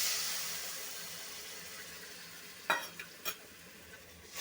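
A spice paste of ground spices and water fries in oil for a fish curry, a quiet, fading sizzle with a few brief scraping stirs of a spoon against the pan.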